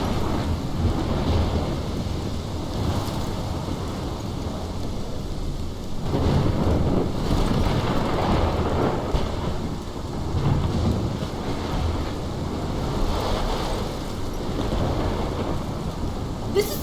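A heavy thunderstorm in the game Life Is Strange brings dense steady rain with repeated low rolls of thunder that swell and fade every few seconds, close and enveloping, with no voices.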